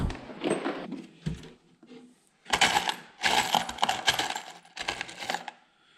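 Small metal screws clink and rattle in short bursts while being rummaged through and searched for, several clattering spells separated by brief pauses, close and moderately loud with no talking.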